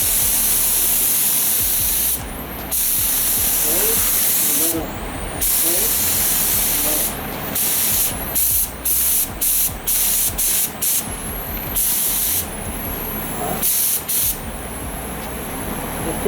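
Spray gun hisses in repeated bursts of varying length while painting an automobile, loud and close, with low rumbling handling noise between passes.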